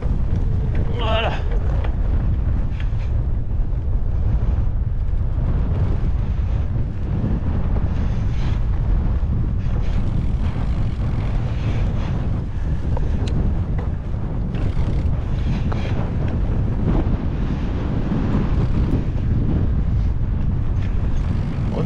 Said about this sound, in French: On a du vent, hein.